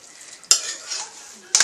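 A spoon scrapes and stirs Liberian jollof rice in a pot, two distinct scraping strokes over a soft steady sizzle, close and fairly quiet with no talking.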